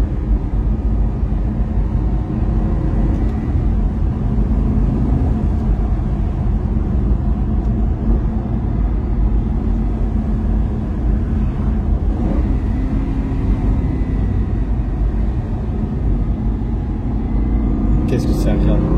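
Aston Martin V8 Roadster engine heard from inside the car while driving, a steady low rumble with road noise under intermittent talk.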